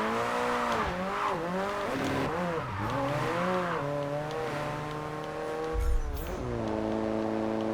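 Car drifting in JDM: Japanese Drift Master, engine revs rising and falling with sustained tire squeal through sliding turns, loud and close, ending with a brief thump.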